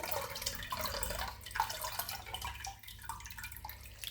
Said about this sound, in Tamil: அடுத்ததாக கரைச்சி வச்ச புளியை இதில் விடுவோம்.